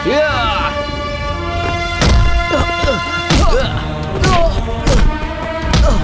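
Repeated heavy punches and thuds land in a dubbed action-movie fight scene, several loud impacts spaced irregularly over dramatic music and shouting voices.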